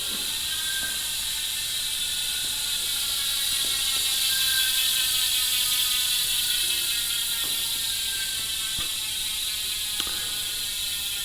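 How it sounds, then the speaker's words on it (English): Freehub ratchet of Hunt 4 Season Aero bicycle wheels coasting, a fast continuous buzz of fine pawl clicks with a high whirring edge, steady and close, with a few sharper ticks and no voices. "The free hub sound check of the Hunt 4-season Aero"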